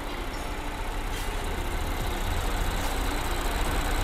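A second-generation Lincoln MKX 2.7 AWD engine idles steadily, a continuous even drone with a low rumble heard up close and on its own, with no one talking.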